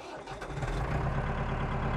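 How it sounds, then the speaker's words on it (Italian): Tractor engine starting and settling into a steady low diesel rumble, loud and close throughout. "Accendiamo tutto, allora, perfetto, trattore."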